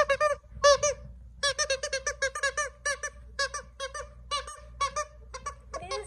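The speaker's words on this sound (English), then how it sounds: "You want me to squeak that for you?" A squeaky dog toy for a French Bulldog squeals repeatedly in quick, uneven bursts, loud and close, with short pauses between squeaks.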